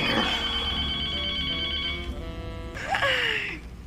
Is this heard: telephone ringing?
yes